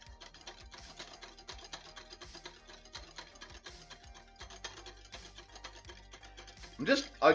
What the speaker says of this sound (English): I'm continuing to whisk this predominantly because I want to see if it'll thicken like more and more and more.